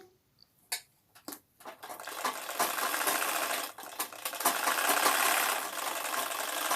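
A sewing machine stitches the folded hem of a Patiala salwar, starting with a few short hesitant bursts and then running in a steady, fairly close whir with slight fluctuations.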